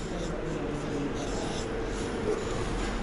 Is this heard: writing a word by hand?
yes